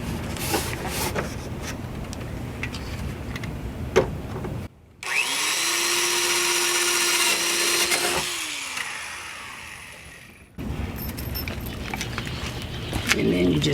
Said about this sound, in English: what I'm going to do is drill some new holes.